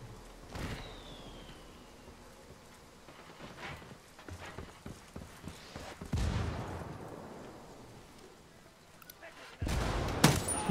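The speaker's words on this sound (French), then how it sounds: "Il tire sur ses potes." Gunfire in the Ghost Recon Wildlands video game, with scattered sharp shots and bursts spread across the scene, mostly distant, followed by a louder, closer burst near the end.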